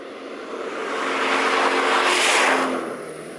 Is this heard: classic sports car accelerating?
yes